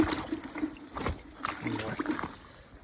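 A small brook in Newfoundland trickles and splashes softly nearby, faint, uneven water sounds with brief spatters during trapping along the bank, with a few quiet incidental noises.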